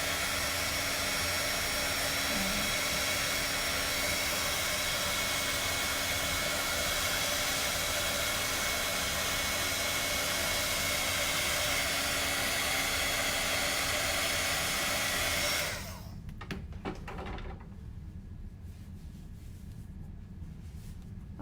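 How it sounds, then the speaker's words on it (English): A hot air heat tool blows steadily and loudly to dry paste on a paper craft card, a constant roaring whoosh that runs for about fifteen seconds before cutting off, leaving only faint room hiss. "So my paste is still not dry, and I think I'm gonna dry it again"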